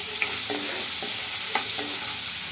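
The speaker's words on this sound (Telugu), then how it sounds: "ఇప్పుడు ఇదే ఆయిల్ ఉంది కదా, ఇందులోకి చిన్నగా తరుపుకున్న ఆనియన్స్ ముక్కలు అయితే వేసుకుంటున్నాను." Finely chopped onions frying in hot oil sizzle steadily up close, with a few soft scrapes of a spoon stirring the pan at intervals.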